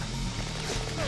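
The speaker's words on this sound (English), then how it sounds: "Changing mag!" A quick magazine change in GoldenEye Reloaded: a short run of metallic clicks and clacks from the weapon being reloaded, close and dense, over steady background game noise.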